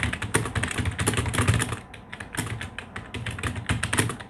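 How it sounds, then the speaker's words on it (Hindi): Rapid typing on a computer keyboard during a typing-speed lesson, a dense stream of close, crisp key clicks with brief pauses, no voices. "देखिए मैं आपको दिखाता हूँ टाइपिंग अपने में।"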